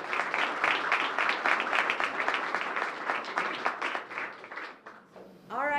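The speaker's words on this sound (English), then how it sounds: "Applause to all the students who will now come up and present their work." Audience applause for students at a closing event, steady dense clapping that tapers near the end as a voice begins to speak.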